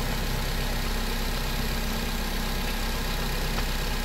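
A Nissan Livina engine idles steadily and smoothly after a misfiring spark plug was replaced, with a continuous close mechanical hum and no talking.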